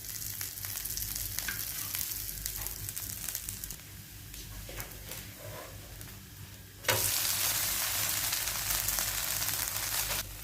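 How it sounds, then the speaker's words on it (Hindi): A dosa sizzles in oil on a hot pan with a steady, close crackling hiss and occasional spatula scrapes. The sizzle suddenly jumps louder and brighter partway through, then holds strong to the end. "फिर से 2 से 3 मिनट पकने के बाद 1 टीस्पून आपने इसके ऊपर ऑयल शामिल कर देना है"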